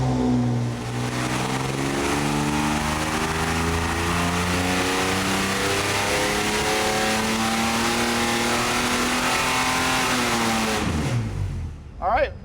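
Ford 300 inline six engine on a dyno pull, loud and close, climbing steadily in pitch under full throttle for about ten seconds before the revs drop sharply and the engine cuts off.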